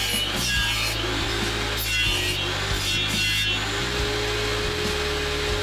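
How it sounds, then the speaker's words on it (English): A table saw nibbles a cove into pine trim against an angled auxiliary fence, its motor whining steadily while the blade grinds and rasps through the wood in repeated passes, loud and close. "set up an auxiliary fence on the saw at an angle, and nibble off a little at a time"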